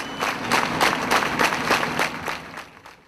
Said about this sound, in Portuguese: ciclistas deitaram no chão e deram uma salva de palmas às vítimas